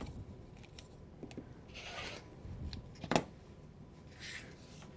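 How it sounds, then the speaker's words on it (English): Scissors snip through the end of a strip of quilt binding fabric in one quick, crisp cut, close and quiet, with soft handling rustle around it. "I'm going to go ahead and trim off my end here."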